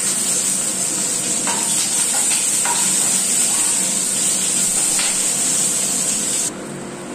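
Onions dropped into hot oil with cumin seeds set off a loud, continuous sizzle and spray, with a few clatters of stirring, before the hiss abruptly drops away.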